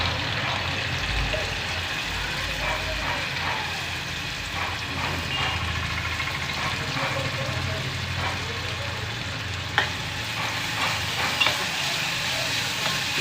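Onions sizzle steadily in hot oil in a pan for a raw tamarind leaf curry, with a continuous frying hiss and occasional soft stirring knocks.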